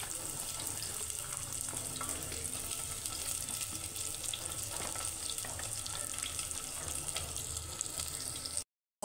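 Onions fry in mustard oil in a pan for chicken biryani, a continuous moderate sizzle with occasional stirring clatter that runs steadily until cutting off at the very end.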